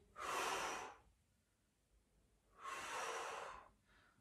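Deep, audible breaths drawn during a gentle gym exercise class, two long airy inhalations a couple of seconds apart and then a shorter one, close and clear with no talking.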